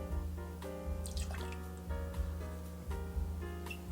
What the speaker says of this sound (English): I'm going to pour in 1 ounce.